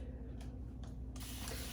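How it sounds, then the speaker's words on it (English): A continuous-spray water bottle mists onto curly hair in short hissing bursts, then delivers a longer steady spray near the end, close and fairly quiet. "Sanvia continuous spray bottle. Get that hair nice and saturated, dripping wet."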